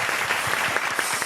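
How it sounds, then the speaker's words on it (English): A canned applause effect for a drum podcast, a short burst of crowd clapping with rapid, evenly spread claps at steady volume, heard alone. "Insert artificial clapping."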